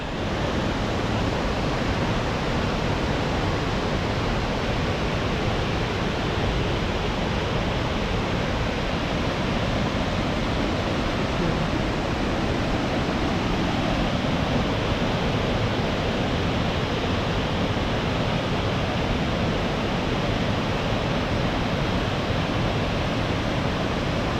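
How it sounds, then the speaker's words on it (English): A waterfall in the Northwoods of Maine roars as a constant, loud rushing wash of water that stays unchanged throughout, with no voices over it. "there's waterfall. Get some footage of that"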